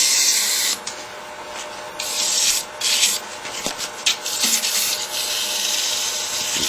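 Sandpaper rubs against a spinning wooden vase on a lathe, a loud continuous hissing rasp that swells and dips as pressure and grit contact change, with no voices.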